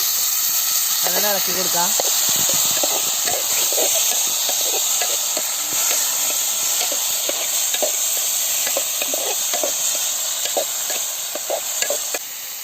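Onions and curry leaves sizzle steadily in a pan for a Kerala-style egg gravy, a constant hiss running throughout with scattered stirring clicks, while a person talks over it.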